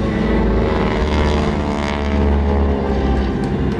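Vintage propeller aircraft of the GEICO Skytypers roar loudly and steadily overhead in formation at an air show, with deep droning engine tones that swell slightly without a break.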